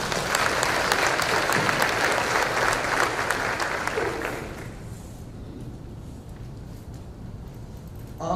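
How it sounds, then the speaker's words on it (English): Applause for district visitors at an early childhood summit, a full crowd clapping steadily for about four seconds before fading down to quieter scattered claps and room noise. "let's give them a round of applause"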